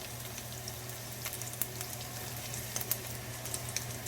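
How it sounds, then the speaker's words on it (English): Inch-sized pieces of meat for a spaghetti meat sauce fry in a pan, giving a steady, even sizzle with scattered small pops and crackles, close and alone. "start frying them in the pan"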